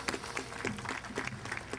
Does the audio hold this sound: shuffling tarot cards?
no